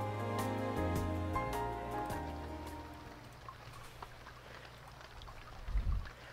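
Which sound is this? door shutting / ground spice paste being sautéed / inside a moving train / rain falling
rain falling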